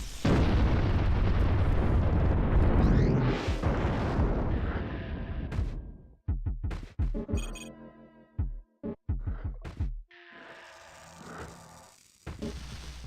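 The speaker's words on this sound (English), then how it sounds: "With the grenade launcher upgrade, you can blast through huge walls." Grenade launcher blasts tearing through walls in the PC game Evolva: a long rumbling explosion fading out, then a string of sharp bursts and pops with short gaps, loud and close, no voices.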